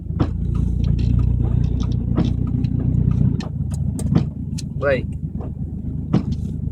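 A car drives along a one-way road in a park campground and swings around in a U-turn, its engine humming steadily and then easing off, while someone talks over it.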